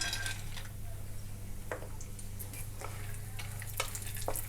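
Cashews, almonds and pistachios roasting in ghee, a soft steady sizzle with scattered light spoon scrapes and clinks against the pan, fairly quiet and close, over a faint low hum.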